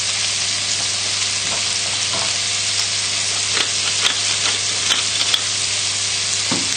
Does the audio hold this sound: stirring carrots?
yes